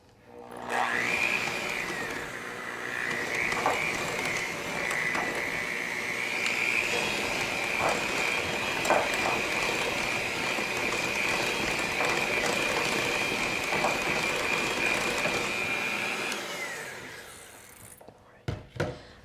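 An electric mixer beats spices into keto gingerbread cookie dough, a sustained whine with rhythmic clatter from the beaters against the bowl, running for most of the stretch before cutting off, followed by a few brief knocks.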